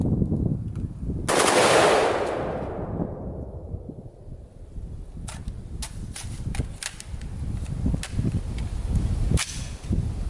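An AR-15 rifle fitted with a Fostech Echo trigger fires outdoors: a loud opening shot, then a quick irregular string of sharp reports with ringing echo, spaced closer together toward the end.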